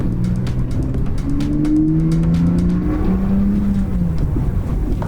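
Close-up of a BMW E91 with an N52 engine and a custom open cone intake, loud and sustained, with engine tones rising and falling through repeated revs and no talk.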